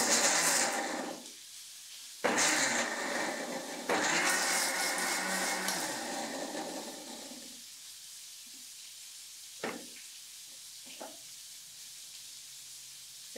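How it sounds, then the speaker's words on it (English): A kitchen blender grinds onion, cumin and cardamom in short loud bursts, roaring for a couple of seconds at a time, then falls quiet with a few small clicks. "we can blend this onion and jeera and elachi"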